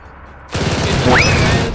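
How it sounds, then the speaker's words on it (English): Sustained gunfire rattles in a video game, a sudden loud burst of rapid shots that continues without pause, with a brief rising whistle-like tone overhead. "All I hear is gunfire"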